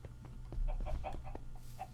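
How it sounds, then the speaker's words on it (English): Chickens on a chicken farm in a video game cluck in short repeated bursts over a steady low hum, moderately close and even in rhythm. "This is a chicken farm I built."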